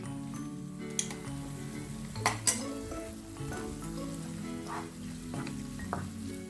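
Onions with ginger garlic paste fry in a pan, giving a steady close sizzle broken by a few sharp clicks and taps of a utensil against the pan.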